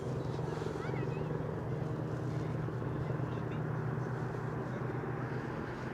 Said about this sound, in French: on entend l'hélico